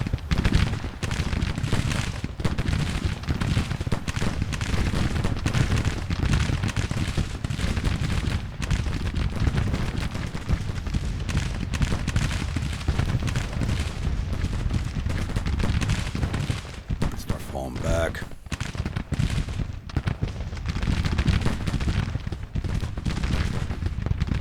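Distant artillery booms and counter-battery cannon fire rumble almost continuously across a battlefield in Grand Tactician: The Civil War, with repeated thuds layered into a steady roar of combat.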